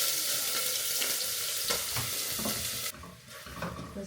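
Green chillies and ginger hit hot oil with spluttering mustard seeds and cumin, a loud, steady close sizzle that dips briefly near the end, with a few stirring scrapes and no voices.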